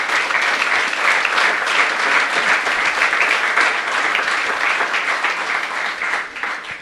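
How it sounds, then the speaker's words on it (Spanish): A church congregation claps in praise during a Spanish-language worship service, a dense, steady wash of many hands sustained for several seconds before easing slightly near the end. "Démosle palmas al Señor."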